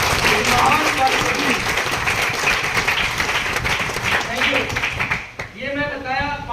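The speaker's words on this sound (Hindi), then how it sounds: "एक जोरदार तालियां मैं चाहूंगा।" A hall audience at a business presentation breaks into loud, dense applause that carries for several seconds and then fades as a voice returns over the tail.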